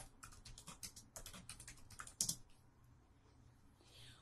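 Rapid clicks of a computer keyboard as search words are entered, close and quick, then a single heavier keystroke like a press of enter, followed by faint quiet.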